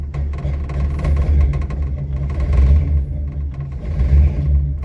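A 1941 Plymouth P11 engine idles steadily up close with a deep low rumble and faint clatter, its carburetor badly in need of a rebuild, the pitch wavering slightly with uneven idle.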